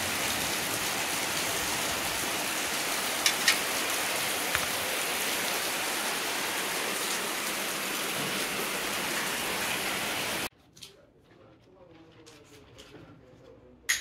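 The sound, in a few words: heavy rain falling on a rooftop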